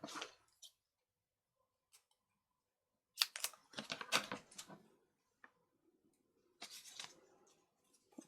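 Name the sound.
cutting dimensional tape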